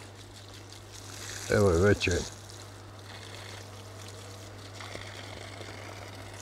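Cold water runs from a well pump set 8.5 m deep, a soft pouring trickle over a low steady motor hum, while someone speaks briefly partway through.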